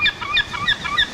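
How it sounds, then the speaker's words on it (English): A seagull's repeated high, squealing cries, four quick calls in a row, loud and close, played as a timer sound at a Seattle District 2 candidates debate. "That's our friendly seagull"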